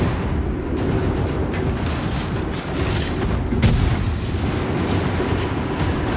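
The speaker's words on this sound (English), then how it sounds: "So as I turn, more cannons become available that were already loaded." Warship cannons fire in the naval combat game World of Warships Legends, with booming blasts over a continuous rumbling backdrop and one sharp, louder report near the middle.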